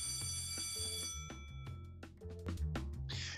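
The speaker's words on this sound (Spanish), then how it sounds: "Grabemos el sonido de una de las alarmas." An alarm in the Rhythm Thief video game rings with a bright, sustained electronic tone for over a second, then gives way to plucky game music and effects.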